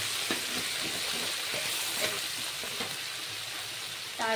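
Spice paste with turmeric sizzles quietly in a pan for a fish curry, a soft steady frying hiss broken by small clicks of stirring.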